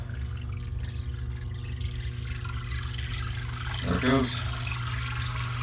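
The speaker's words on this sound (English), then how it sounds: "there's quite a bit of water coming out of that pipes" Water drains from a pipe fed by a newly installed sump pump, a steady low rushing flow over a constant mechanical hum, with a brief voice speaking partway through.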